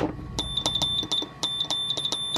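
A multimeter's continuity tester gives repeated short high beeps in an irregular rhythm while testing the wiring of a Russian military morse key, with clicks of the probes or key between them.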